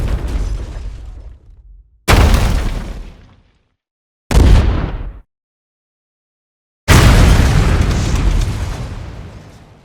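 Four heavy explosion sound effects from a Roblox video game sound design kit, each a sudden deep boom that rumbles and fades, separated by short silences; the last blast rolls on longest.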